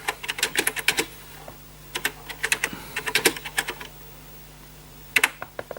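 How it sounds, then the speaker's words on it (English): Fast keystrokes on a Commodore 64 keyboard, typed in the dark. The clicks come in close, busy flurries, then a gap and a final short burst. "I'm typing in the dark and around the camera."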